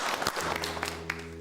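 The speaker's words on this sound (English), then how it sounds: "Give yourselves a round of applause." Audience applause breaking out at a live stage hypnosis show, a broad wash of clapping from a crowd that runs steadily through the moment with a low tonal hum beneath it.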